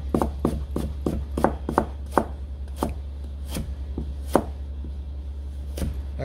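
Knife chopping green onion and then ginger on a board for a beef ramen sauce, a run of sharp, close thuds, quick at first and then more spaced out, over a low steady hum.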